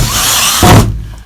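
Short close burst of a power drill cutting a pilot hole through a Mercedes Sprinter van roof, loud and steady, then stopping abruptly and fading.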